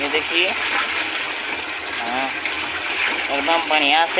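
Water gushes and splashes as something is rinsed outdoors in a village setting, a running, sloshing flow with someone talking over it throughout.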